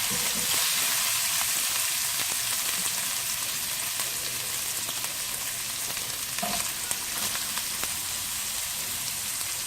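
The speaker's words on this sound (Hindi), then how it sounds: "बहुत ही अच्छी खुशबू आती है जब हम जिंजर गार्लिक पेस्ट को तेल में फ्राई करते हैं वेजिटेबल्स के साथ।" Vegetables and onion fry with ginger garlic paste in oil over high heat, giving a loud, steady, crackling sizzle with occasional stirring clinks throughout.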